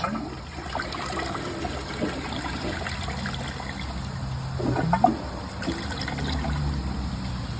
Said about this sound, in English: let's give it another flush